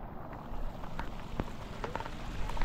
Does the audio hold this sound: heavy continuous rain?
yes